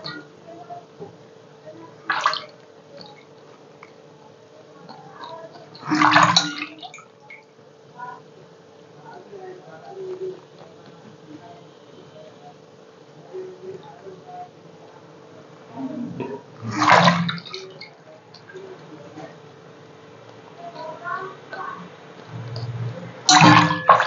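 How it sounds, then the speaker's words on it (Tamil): Conch meat being rinsed and scrubbed by hand in water, with a few louder wet splashing squelches spaced through a steady low background hum. "இந்த மாதிரி நம்ம வந்து கழுவி எடுக்கணும்."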